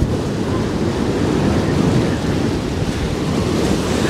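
Strong wind buffets a boat among icebergs in front of glaciers, a loud, steady roar of gusts mixed with the wash of waves, continuous throughout with no voices.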